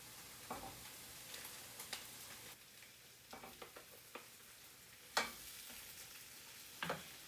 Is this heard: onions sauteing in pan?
yes